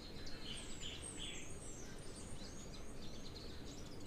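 A southern fiscal shrike gives a few faint, thin chirping calls at a waterhole, distant and soft against a steady hiss of outdoor ambience.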